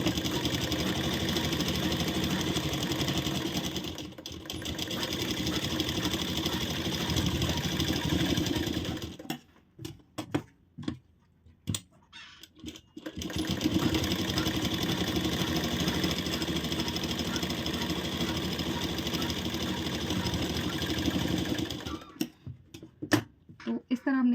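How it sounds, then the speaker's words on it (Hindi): A sewing machine runs fast stitching the side seams of a blouse, a loud continuous whirring rattle in two long bursts separated by a quiet pause with handling clicks, stopping again near the end. "तो फ्रेंड अभी सिर्फ हमें यहाँ और यहाँ दोनों साइड सिलाई लगानी है"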